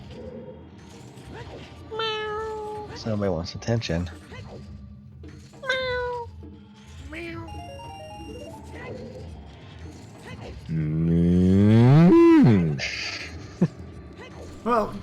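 A pet cat meows repeatedly and loudly near the microphone, including one long drawn-out call, amid game stream audio while a commentator talks.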